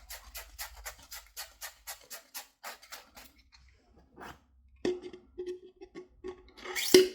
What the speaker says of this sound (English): I have a little bit of sandpaper. This is 220